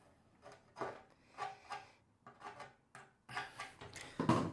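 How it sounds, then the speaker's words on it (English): Knife blade pulled across the cut edge of a metal insulated panel to remove burrs, several short scraping strokes in irregular bursts, close and fairly quiet, with no talk. "we're just going to pull the knife across there, just get rid of them burrs"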